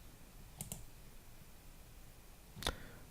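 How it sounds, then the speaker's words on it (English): Two brief, sharp computer mouse clicks, one early and one near the end, each a quick tick against a quiet room background, with no talking. "and then click OK"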